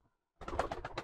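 Close, soft pigeon coos in a short rolling burst after a moment of near silence.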